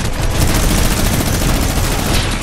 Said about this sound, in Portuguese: O cara tá de minigun.